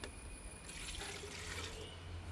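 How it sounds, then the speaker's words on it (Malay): One liter of water is poured into a pot while cooking banana blossom, making a steady, soft splashing rush that is continuous and fairly quiet, with no talking. "Lepas tu supaya bubuh air 1 liter."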